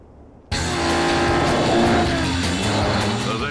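A Ferrari FF with four-wheel drive sliding across an ice track, engine roaring loud and steady as it revs, close and continuous with no voices.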